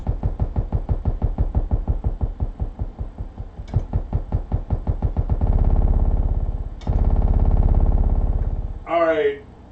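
Trigger button on a modular synth module pressed over and over through a speaker, giving fast repeated bouncing thumps that later merge into a steady, loud droning buzz with a short pitched sweep at the end.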